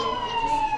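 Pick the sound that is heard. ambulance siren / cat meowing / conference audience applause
ambulance siren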